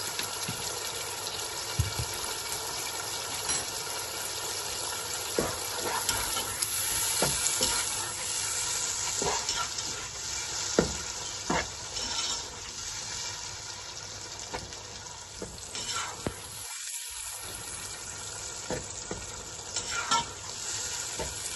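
Rice and peas being fried and stirred in a pan with salt, a continuous close sizzle with repeated scraping stir strokes throughout and a brief gap near the end.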